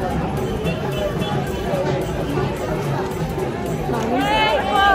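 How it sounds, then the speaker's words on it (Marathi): A dense crowd of visitors mills around Jejuri temple on a busy Sunday, a steady close-up babble of many overlapping voices and footsteps, with one voice rising near the end. "गर्दीच गर्दी आहे. संडे आहे म्हणून गर्दी आहे."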